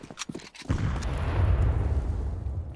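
A grenade goes off in Counter-Strike 2 with a sudden heavy boom that rolls into a sustained low rumble, preceded by a few sharp clicks and knocks, loud and close with no talk.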